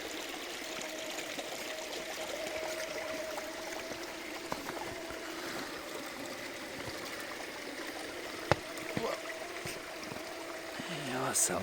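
Water runs steadily down a rocky waterfall course where a Traxxas TRX-4 Dodge Power Wagon RC crawler on 1.9-inch JConcepts Landmine tires climbs, a constant close trickle with a few sharp knocks near the end.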